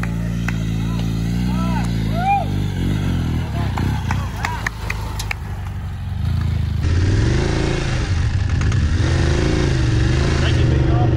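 A BMW motorcycle engine runs loud and close, rising and falling through repeated revs with steady mechanical clatter, while people talk over it.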